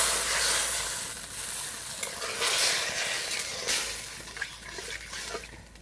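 Water poured into a pan of cooking leafy greens curry turns the frying into a broad, steady sizzle and hiss that gradually eases over several seconds.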